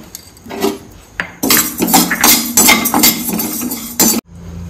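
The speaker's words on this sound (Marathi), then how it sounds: "थोडी भाजायची ते डाळ भाजून घेऊया।" Chana dal being dry-roasted in a pan, the dry lentils rattling and clinking against the metal in quick bursts, loud and close, with a short pause before a burst of stirring.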